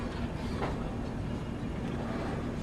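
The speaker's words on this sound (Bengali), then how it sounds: "ফাইনালি আমাদের ট্রেন এসে পৌঁছালো দীঘাতে" A train on the Howrah route pulls into Digha station with a steady, close, continuous rumble of rolling wheels.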